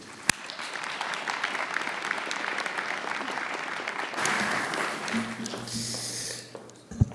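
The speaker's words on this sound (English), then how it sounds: "A warm applause to Niels, please." An audience at an anti-scam summit applauds warmly, a steady wash of clapping that swells and then fades out, with a brief murmur near the end.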